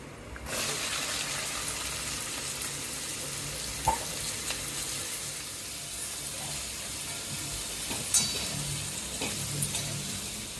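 Okra with asafoetida, turmeric and chilli powder sizzles in hot oil over a low flame, a steady close frying hiss with a couple of faint clinks and no voices.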